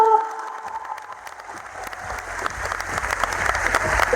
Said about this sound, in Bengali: সবার জন্য হাততালি